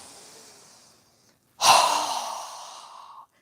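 A strong, forceful exhale through the nose during yoga breathing: after a faint breath and a brief pause comes one loud, close, rushing burst of air that tapers off over about two seconds.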